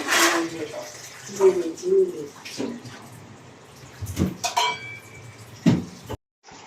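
Water is poured and mixed into sattu flour for puri dough in a home kitchen, heard as splashing and wet stirring with clinks of utensils, while a voice speaks briefly over parts of it.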